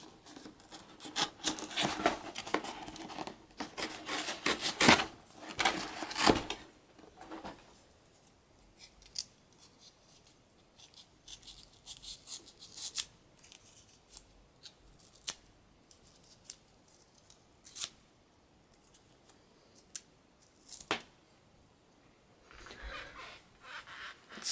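A Gerber Curve multi-tool blade cuts into a cardboard box, making repeated close scraping and slicing strokes in bursts, louder at first, then quieter intermittent rasps with a few sharp snips.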